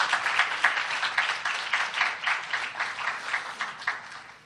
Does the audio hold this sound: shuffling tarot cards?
no